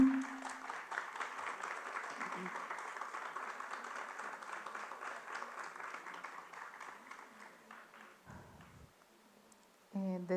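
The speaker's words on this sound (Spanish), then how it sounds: "Les solicito por favor un aplauso de la audiencia." Audience applause at a university rectorship candidates' debate, a soft, steady patter of clapping that slowly thins out, with a voice speaking near the end.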